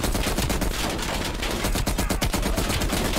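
Automatic gunfire in Call of Duty Black Ops Cold War, dense rapid bursts of loud shots filling the whole stretch with an even, rattling rhythm and no talk over it.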